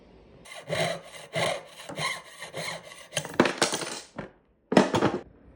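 Wire for geometric earrings is cut to size at a marked point, giving a run of short rhythmic scraping strokes, then a louder burst of rasping and a final sharp clip, close up with no talking.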